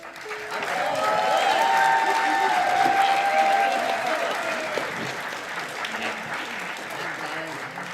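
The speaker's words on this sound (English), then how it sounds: "Please can we have a huge round of applause" A festival crowd gives a big round of applause and cheers for the Ōtākou kapa haka group, with strong, swelling clapping, a tonal voice or call riding over it early, then gradually easing.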